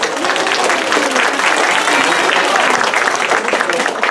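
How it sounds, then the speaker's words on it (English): An audience at a live shark presentation at the Newport Aquarium gives a steady, full round of applause, dense clapping that holds evenly at close range for the whole stretch. "So let's give them a round of applause."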